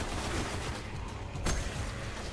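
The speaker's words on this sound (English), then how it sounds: "Got a machine gun" Sustained gunfire from a machine gun in the shooter Destiny, a dense, steady rattle filling the whole stretch with one sharper burst near the middle, no talking.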